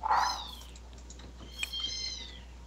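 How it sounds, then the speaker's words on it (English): Kittens meowing inside a house: a loud, close meow opens, then a quieter, drawn-out meow follows near the end, with no talking. "the cat noises, because there's kittens"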